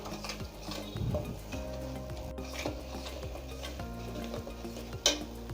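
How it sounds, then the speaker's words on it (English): Chopped vegetables for street-style pav bhaji cooking in oil in a pan, a soft continuous sizzle with occasional stirring scrapes and a light clink of utensils, fairly quiet and without speech. "So this has to cook properly in the oil."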